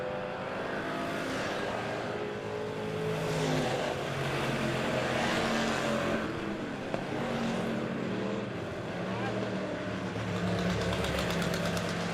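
Race car engines roar around Monett Motor Speedway in repeated loud passes, rising and falling as the cars go by, and several engines overlap with a rough, knocking drone.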